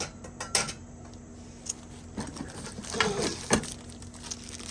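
Metal griddle spatulas from a griddle accessories kit, one with a beveled edge, clinking and scraping against each other in scattered sharp clanks of varying loudness, close by and with no talking.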